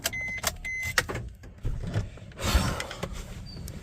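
A car is parked and switched off, with a few sharp mechanical clicks and a brief whirring motor, followed by a low rumble that settles.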